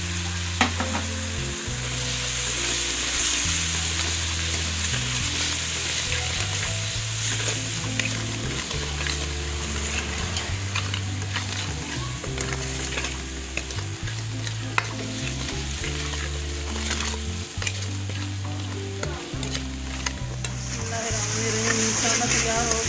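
Spices sizzle and fry in hot oil while a spoon stirs them for chana daal palak, a steady crackling hiss with repeated scraping strokes under a continuous background drone.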